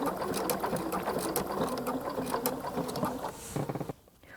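Sewing machine fitted with a braiding foot stitching embroidery floss down, a loud, steady, close motor whir with a rapid needle rhythm that slows and stops near the end; no talk.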